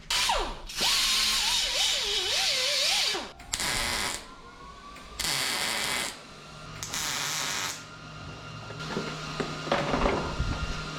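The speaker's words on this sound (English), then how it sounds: "Got a good mean tack front and back." Tack welds go onto the frame of a 1979 Chevy LUV truck as several short, loud buzzing bursts, each lasting about a second, separated by quieter gaps. Faint tool noise and handling sounds can be heard between them.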